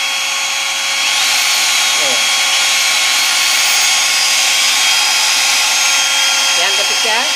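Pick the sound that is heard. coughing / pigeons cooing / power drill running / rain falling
power drill running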